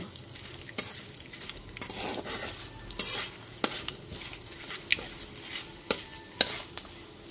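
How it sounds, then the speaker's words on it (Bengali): Bay leaves, two dried red chillies and panch phoron fry over a medium gas flame in a pan, giving a steady soft sizzle broken by repeated sharp clinks and scrapes of a stirring spoon, with no talk. "এবার গ্যাসের ফ্লেমটা মিডিয়ামে রেখে হালকা করে ভেজে নেব।"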